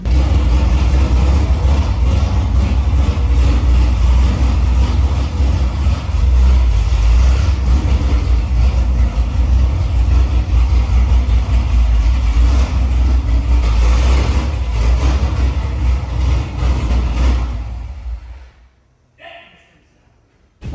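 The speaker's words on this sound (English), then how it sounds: "I guess I'm gonna pull my Corvette in here" A Corvette pulls into a shop, its engine rumbling loud and close with low, steady throb and slight revving, then cutting off near the end, leaving quiet.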